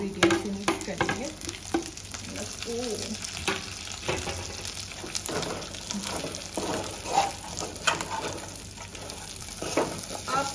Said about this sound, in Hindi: हमारा जो चिकन है वो डाल देंगे, हमारे इंग्रेडिएंट्स से मिक्स करेंगे।